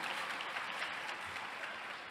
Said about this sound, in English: I thought I would have got an applause for that.